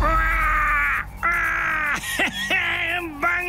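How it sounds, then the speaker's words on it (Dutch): A crow-like bird caws loudly and near, giving a run of long, drawn-out harsh calls separated by short pauses. "Die vogel weer."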